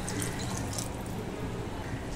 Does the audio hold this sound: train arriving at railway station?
no